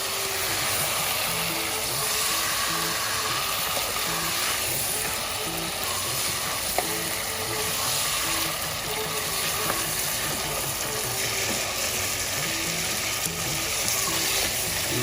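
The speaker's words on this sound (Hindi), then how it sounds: "गोश्त जो है वो हम भून रहे हैं और ये अच्छी तरह तकरीबन हाई फ्लेम पे आपको 4 से 5 मिनट इसको बहुत अच्छी तरह भूनना है।" Mutton being browned in a pan over a high flame for qalia salan, a dense steady sizzle and bubbling hiss running evenly for the whole stretch with faint stirring, close and with no talking.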